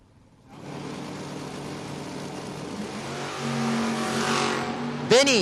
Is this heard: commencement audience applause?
no